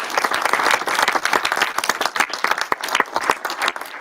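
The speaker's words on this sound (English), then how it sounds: "I think they also deserve a big round of applause" An audience applauds at the close of presentations at a tech event, with dense, steady clapping from a sizeable crowd sustained throughout at moderate loudness.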